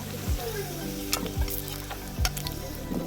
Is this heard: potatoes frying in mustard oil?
yes